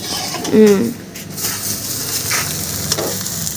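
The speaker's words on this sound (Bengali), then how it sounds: "বাবা বাবুকে ডিম ভাজা করে দিচ্ছে" Egg frying in a home kitchen pan for a breakfast of roti, sizzling steadily with a louder stir or scrape near the start, while people talk nearby.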